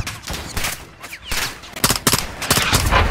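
Bursts of gunfire in the Call of Duty Modern Warfare 2 campaign mission Las Almas, with loud close shots and rapid automatic volleys over a busy battle background, growing denser toward the end.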